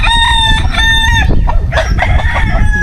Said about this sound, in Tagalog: Yung mga manok ko, yung Tagalog na manok mga katuba